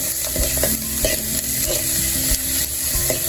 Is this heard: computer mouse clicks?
no